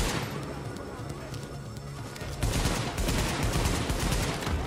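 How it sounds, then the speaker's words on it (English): Rapid bursts of gunfire and booming blasts from grenade launcher fire and explosions in The Division, dense and continuous, growing louder and busier in the second half with a low voice murmuring beneath. "He has a grenade launcher."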